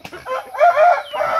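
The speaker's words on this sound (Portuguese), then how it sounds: "Que ela é o galo prata." A silver rooster crows once, close and loud: a short rising call that swells into a strained, wavering middle and trails off, heard alone with no talking.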